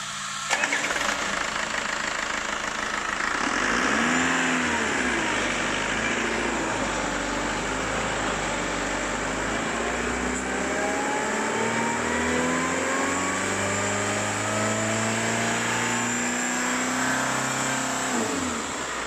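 An engine on a water brake dynamometer sweeps through a fast 300 rpm-per-second load test, its loud droning tone climbing and wavering steadily for nearly twenty seconds without talk.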